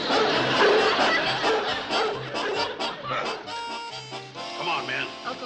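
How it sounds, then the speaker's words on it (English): A dog barks and yips in quick, excited bursts amid a noisy outdoor scene, with several people shouting and talking over it at close range. "Get that dog down off of there."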